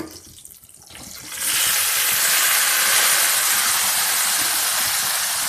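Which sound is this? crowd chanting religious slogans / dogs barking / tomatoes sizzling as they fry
tomatoes sizzling as they fry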